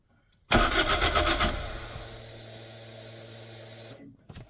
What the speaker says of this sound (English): I'm just checking to see if the fuel pump is definitely working or not